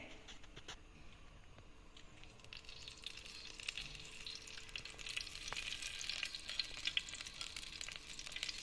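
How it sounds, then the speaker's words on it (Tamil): Oil heating in a hot clay pot for frying fish, giving a soft, steady sizzle and crackle that grows slightly louder over several seconds, with no talk. "சட்டி சூடாயிடுச்சு இப்போ எண்ணெய் ஊற்றிக்கிறேன்"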